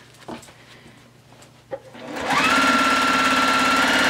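A sewing machine stitches binding onto a quilt. It starts after a couple of faint handling taps and then runs as a loud, steady motor whir close by until the end, with no talk.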